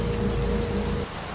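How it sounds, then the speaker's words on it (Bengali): Heavy rain pours down during a storm in an audio story, a steady close hiss of drops hitting the ground that eases slightly near the end. "বৃষ্টির সাথে এবার আবার শুরু হয়েছে হাওয়া।"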